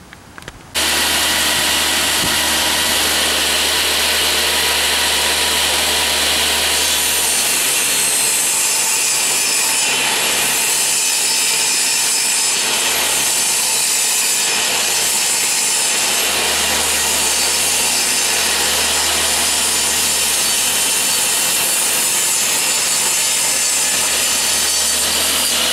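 A saw cuts through wooden boards for a window frame made to hold Christmas lights, a loud steady whine grinding on without pause under a low motor hum.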